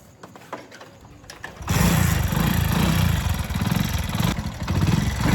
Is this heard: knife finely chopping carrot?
no